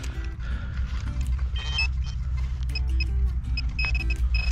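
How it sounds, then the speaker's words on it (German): A timer alarm beeps in short repeated electronic tones over rumbling outdoor background noise during a metal-detecting outing, fairly faint and intermittent. "Oh Leute, der Timer ist fertig."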